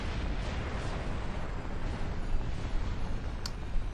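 Continuous roaring explosion rumble from a collapsing, exploding castle in the Yoshi's Island DS video game, a dense low crackling boom filling the whole stretch with a brief sharp high chime near the end, no talking.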